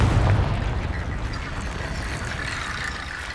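A fiery Confringo spell explosion in Hogwarts Legacy gives a broad, rumbling boom that swells at once and then fades slowly into a low roar over a few seconds.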